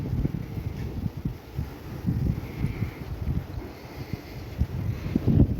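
Strong wind buffets the microphone in low, rumbling gusts that rise and fall continuously, close and loud.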